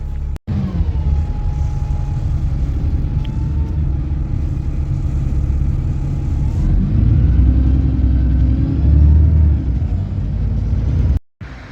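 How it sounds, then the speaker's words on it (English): A bus pulls away with a steady low engine rumble and drone, fairly close and continuous, swelling slightly toward the end before cutting off. "There goes my bus."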